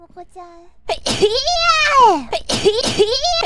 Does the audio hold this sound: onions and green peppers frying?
no